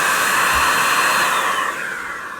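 A Metro DataVac electric duster runs at full power, giving a steady, loud, high-pitched motor whine and rush of air with no pause. The pitch sags slightly near the end.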